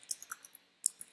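Computer mouse clicking in a quiet room, a quick run of about four light clicks, a brief pause, then two more crisp clicks, close and soft.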